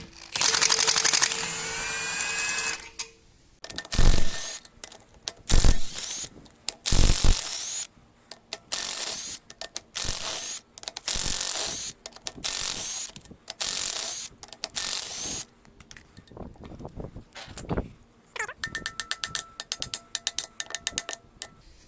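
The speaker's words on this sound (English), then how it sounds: "Alright, let's remove the main caps." A ratchet wrench clicks in fast bursts while an engine's main bearing caps are loosened and removed, with sharp metallic clanks and short pauses between the loud, close ratcheting runs.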